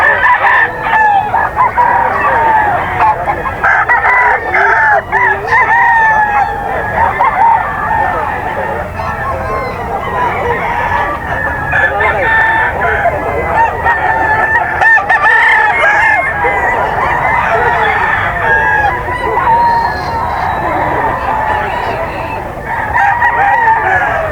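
Roosters crowing repeatedly at a breeder's gamefowl sale, several birds calling over one another in a busy, continuous chorus with clucks and honks mixed in and faint voices in the background.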